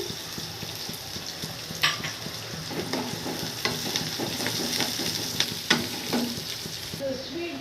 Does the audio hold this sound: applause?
no